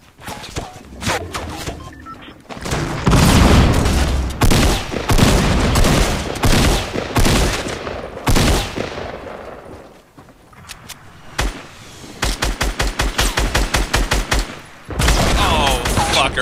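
Rapid bursts of gunfire and explosive rocket blasts from a Fortnite battle, loud and dense, with sharp repeated shots in clusters and heavy booms, while players talk over the action.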